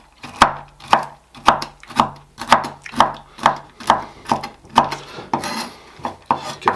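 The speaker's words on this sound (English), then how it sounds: "We're going to chop these up pretty fine, just so we have something to top them with" A knife chops chocolate on a cutting board in a steady rhythm of about a dozen crisp, close thuds, each with a short scraping tail, with no talking.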